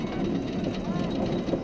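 A roller coaster train rolls slowly up the lift hill of the Tomahawk ride at PortAventura, a steady low mechanical rumble and rattle held at a constant level throughout.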